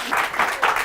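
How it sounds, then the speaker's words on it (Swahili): A talk-show studio audience claps in a brief, lively burst, with the applause swelling in a few quick waves. "Wapi makofi."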